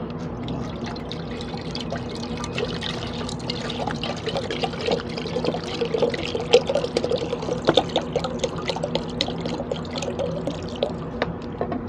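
Water being poured into a cooking pot, 1.5 liters for a fish and young coconut stew, runs as a steady close trickle and splash throughout, with no voices.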